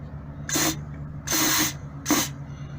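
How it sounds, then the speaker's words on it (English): Three short hissing bursts of STA-BIL fogging oil sprayed from an aerosol can into a cylinder of a 1989 S10 Blazer V6, each about a quarter to half a second long, close and fairly loud over a low steady hum. "So you spray it right here into the cylinder."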